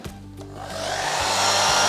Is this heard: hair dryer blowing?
yes